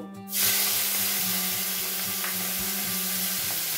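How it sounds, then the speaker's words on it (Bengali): Silence breaks into a sudden loud hiss as salt-and-turmeric-coated prawns hit hot oil, then a dense, even sizzle continues up close with faint bubbling. "চিংড়ি মাছগুলো একটু ভালোভাবে লাল লাল করে ভেজে নিতে হবে"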